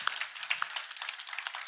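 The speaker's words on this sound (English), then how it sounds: "Let's give a round of applause to the sponsors." Audience at a startup innovation awards final clapping for the sponsors, a thin scattering of separate claps from a small crowd, light and somewhat distant.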